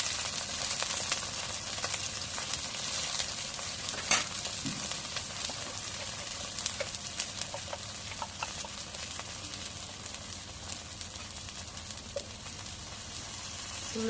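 Cumin paste and garlic paste fry in a pan, giving a steady, close sizzle with scattered pops and light stirring throughout, with no talking.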